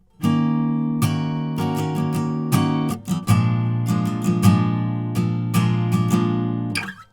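Acoustic guitar strummed in a down-up pattern, switching between two barre chords including a flat dominant seventh, with ringing sustained chords and sharp strum attacks, played alone and close up.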